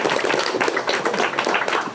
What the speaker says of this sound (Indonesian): Tepuk tangan dulu dong untuk guru besar kita semua.